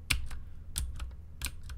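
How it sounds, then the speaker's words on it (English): Keys clack on a V60 Mini mechanical keyboard with clicky, tactile Cherry MX Green switches, recorded close up: a few crisp, loud keystrokes in an uneven typing rhythm, alone without speech. "this is a clicky keyboard and a tactile keyboard, so when you press it down, you feel a bump and it clicks"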